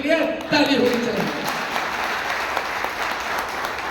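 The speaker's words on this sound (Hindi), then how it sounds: "और एक बार जोरदार लाडू सर्किल और मेटाफोर्स टेक्नोलॉजी के लिए ताली होनी चाहिए।" Sustained audience applause at a Metaforce Technology leadership event in Nainital, steady and fairly loud throughout, with a brief burst of voices near the start.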